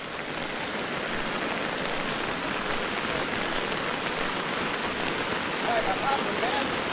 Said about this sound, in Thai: ฝนอ่อนลงแล้ว